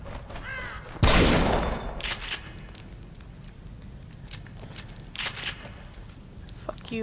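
Crow caws from the horror game The Evil Within, played on PC, appear as a few short harsh calls over game noise, with a loud burst near the start and a voice talking in places.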